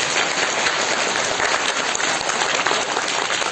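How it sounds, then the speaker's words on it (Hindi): An audience at a classical Kathak dance event claps loudly and continuously, a thick, even wash of applause with no pauses. "उसके लिए एक बार जोरदार फिर से तालियां बजाएं।"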